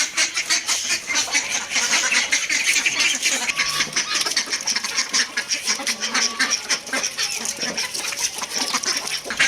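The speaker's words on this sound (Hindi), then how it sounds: "अब हम अपने डक्स और देसी मुर्गियों को खोलते हैं।" A flock of ducks and chickens quacking loudly and continuously nearby, a dense chorus of overlapping calls and fowl noises with no pause.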